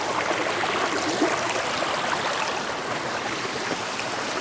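A stream flows across a canyon hiking trail crossing near Seven Sisters Falls, with a steady close rushing and babbling wash that stays even and unbroken throughout, no voices.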